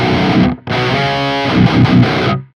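Crunchy, distorted rock electric guitar tone from a Quad Cortex modeler, played loud and sustained as chords with a brief gap near the start, then ringing on steadily before cutting off.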